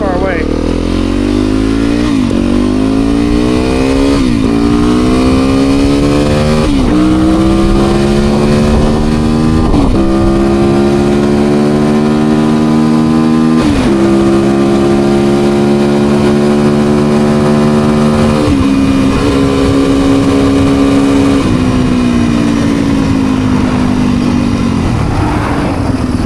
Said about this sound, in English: FX is not a very comfortable mile muncher of a dual sport, but it gets the job done when you want to go from a place to trails